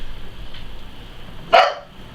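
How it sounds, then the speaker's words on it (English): A single sharp dog bark rings out from somewhere in the house, cutting briefly through a low steady background hum. "there goes my dogs!"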